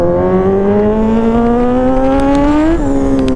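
A Kawasaki Z1000 motorcycle engine revs loud and close, its steady buzzing tone climbing gradually in pitch for a few seconds before dipping sharply near the end.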